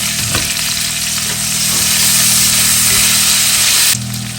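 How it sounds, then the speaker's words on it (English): Potatoes sizzle and crackle loudly in a hot cast iron skillet, a constant close frying hiss with a brief scrape of stirring. "I'm gonna put them in the cast iron skillet to fry"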